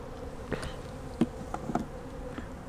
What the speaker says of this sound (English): the robber bees will gather around down here trying to find their way in